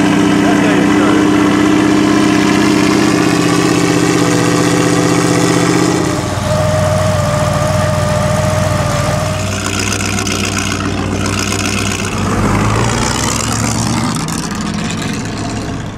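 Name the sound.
supercharged historic racing car engine started and idling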